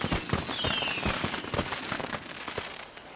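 Fireworks go off in the Far Cry 6 video game, a rapid scatter of pops and crackling bursts at moderate distance, with a faint whistling streak early on.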